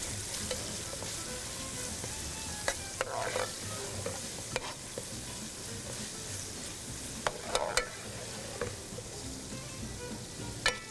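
Ginger-garlic paste with whole garam masala of cinnamon, cloves, black peppercorns and black cardamom frying in a pot, a soft continuous sizzle broken by scattered clicks and scrapes of a stirring spoon.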